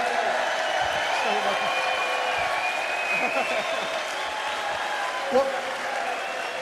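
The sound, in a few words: audience applause at darts final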